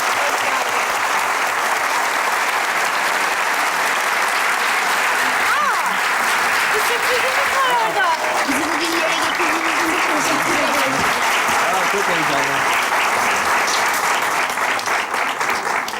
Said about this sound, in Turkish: O zaman bir alkış alalım.